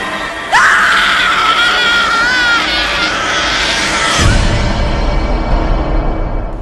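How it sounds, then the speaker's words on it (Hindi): A woman waking from a nightmare lets out a loud, sustained scream in a Hindi audio drama, wavering in pitch for several seconds before breaking off into rumbling noise. "नैना तुरंत चिल्ला पड़ी और चिल्लाते हुए अपनी बेड से उठी।"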